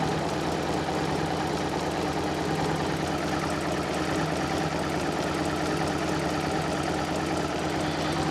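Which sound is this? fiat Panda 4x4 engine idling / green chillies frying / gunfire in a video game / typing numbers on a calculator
fiat Panda 4x4 engine idling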